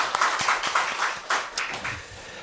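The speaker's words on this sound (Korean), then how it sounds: "우리 하나님께 영광의 박수를 올려드립시다." A church congregation at an ordination thanksgiving service claps in a quick, steady rhythm, a run of about ten sharp, moderately loud claps with no talking.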